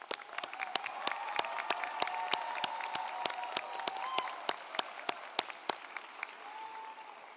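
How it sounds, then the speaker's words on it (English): A commencement audience at a university school of social work ceremony applauds the graduates: dense, sustained crowd clapping with sharp individual claps standing out, steady throughout and tapering slightly near the end. "Let's all give them a round of applause."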